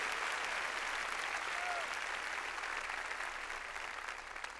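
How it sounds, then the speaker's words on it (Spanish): A church congregation claps loudly for the Lord during worship, a dense, steady wash of applause that continues unbroken and eases slightly toward the end, with no voices over it. "Démosle palmas fuertes a nuestro Señor"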